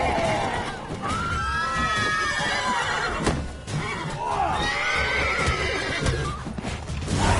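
In the video game Witcher 3, a horse neighs loudly with shrill whinnies twice, alongside hoof clip-clops and busy game background sounds.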